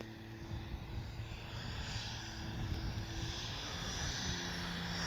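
An Arrows RC MiG-29 electric model jet flies past just after a touchdown and lift-off, its ducted fan a continuous loud whooshing roar that swells slightly as it climbs away under power.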